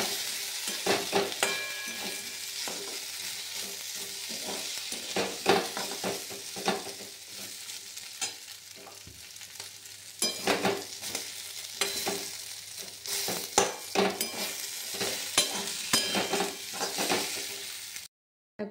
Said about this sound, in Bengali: এই যে আমি এখানে আলুর তরকারি বসিয়ে দিয়েছি, লম্বা লম্বা কেটেছি আলুটা